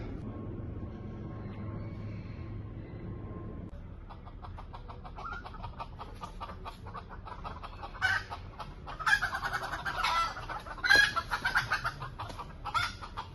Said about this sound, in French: Il y a plein de poules et de coqs dans l'arbre.